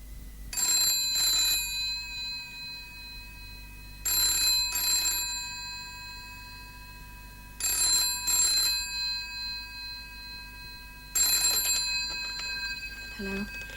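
A telephone rings in repeated double bursts, four ring cycles spaced about three to four seconds apart, clear and close over a quiet background hum.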